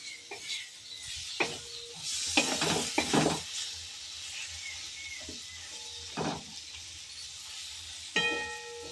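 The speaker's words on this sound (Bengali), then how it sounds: "আর এখানে মশলা কষা চলছে" Spice masala for Bengali egg biryani sautés in a pan, a soft, fairly distant sizzle with occasional spoon scrapes and clinks against the pan.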